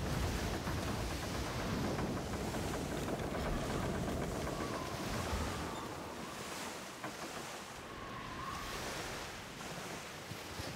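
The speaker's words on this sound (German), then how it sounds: "Volle Segel, volle Pracht." A sailing ship runs at full sail in the Skull and Bones pirate game, giving a continuous wash of ocean waves and wind rushing around the hull, a broad, steady surf noise at moderate level with no voices.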